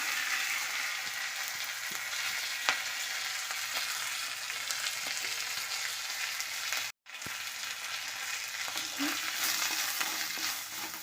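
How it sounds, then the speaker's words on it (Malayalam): Grated coconut roasts in a pan with dried red chillies and curry leaves for a Kerala pumpkin erissery, giving a steady, soft sizzle and crackle with occasional stirring scrapes. There are no voices and one brief dropout near the middle. "നന്നായിട്ടൊന്ന് വറുത്തെടുക്കണം"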